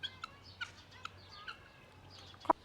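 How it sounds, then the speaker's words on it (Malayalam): Farm poultry, chickens and guinea fowl, calling in short repeated clucks and squawks at a moderate distance over a low steady hum, with one louder, closer squawk near the end. "ഇനി കോഴികളാണല്ലോ കൂടുതൽ ഈ ഏരിയ ഫുള്ള് കോഴികളാട്ടിൽ."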